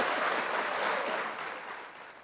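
A small audience on a podcast set claps in a brief, soft burst that fades over about two seconds.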